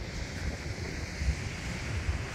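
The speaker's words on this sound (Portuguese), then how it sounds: "Tá um vento gelado" Cold wind gusts over a coastline in Santa Catarina with sea waves surging steadily, a broad continuous roar of surf and wind noise buffeting the microphone, no voices.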